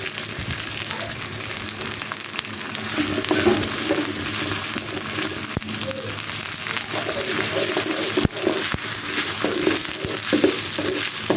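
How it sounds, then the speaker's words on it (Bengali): Ginger and garlic paste frying in a pan for khichuri, a steady hissing sizzle with occasional scrapes and clicks of a spoon, moderately close and continuous throughout. "আদা রসুন চামচটা হালকা ভালোভাবে ভেজে নিচ্ছি।"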